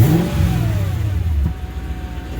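A supercharged car engine with long tube headers revs loudly up close, a deep rumbling surge rising and falling over a couple of seconds.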